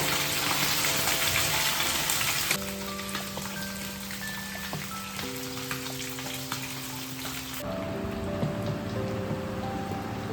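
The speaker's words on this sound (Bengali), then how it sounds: "এই দেখো, এরকম করে মাছটা ভেজে নিতে হবে।" Steady, loud sizzling of rohu fish frying in hot oil, a constant crackling hiss without pauses, with a faint tonal hum underneath.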